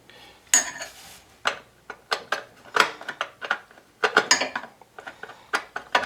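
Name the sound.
removing screws from Coleman generator with a worn flathead screwdriver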